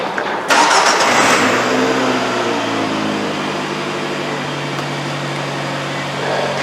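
A Nissan Altima with an imported Japanese engine cranks and fires up, then settles into a steady idle with a droning hum, loud and close.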